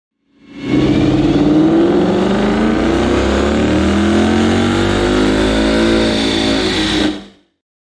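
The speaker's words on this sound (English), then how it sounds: "just listen to how the car revs up" A stock 2019 Ford Mustang GT on a dyno revs continuously, its loud engine note climbing steadily in pitch through a long pull before cutting off abruptly, heard alone without voices.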